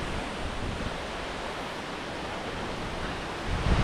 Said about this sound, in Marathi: रानपाट धबधब्याजवळ पोहोचताच आपल्या डोळ्यांसमोर उभा राहतो भला मोठा धबधबा